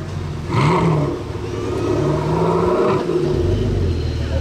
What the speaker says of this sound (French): C'est tellement pur le bruit d'une Aston V12.